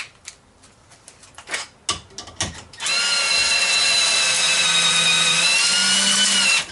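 A powerful power tool drives a bolt until it bottoms out, a loud steady whirring drone that starts abruptly and runs unbroken for several seconds after a few short clanks and knocks of handling.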